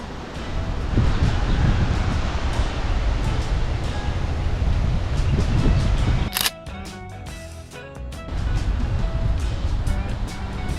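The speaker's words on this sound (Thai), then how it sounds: "ลมแรงมาก" Strong wind roars and buffets the microphone in a constant low rumble in heavy fog and rain near the summit of Phu Ruea, Loei, Thailand, broken once by a sharp click before the gusts return.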